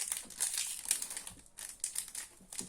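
A Yu-Gi-Oh booster pack's foil wrapper crinkled and torn open, several bursts of bright crackling plastic close up with brief pauses between, no talking.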